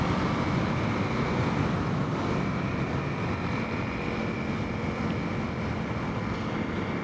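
A Honda CRF300L motorcycle runs at full throttle at about 70 mph on the highway, heard as a constant loud roar of engine and wind with no pauses.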